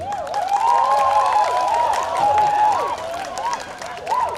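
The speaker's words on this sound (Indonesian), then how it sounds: "Mari beri kita aplaus kepada UNHI" An audience at a university community-service closing ceremony in Indonesia claps steadily throughout, with wavering whoops or whistles riding above the dense, close applause.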